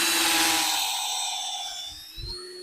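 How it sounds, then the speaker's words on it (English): Cordless drill boring a tap hole into a maple tree outdoors, a steady high whine that slowly drops in pitch under load, with a short thump near the end. "you want to take the drill, put it in there"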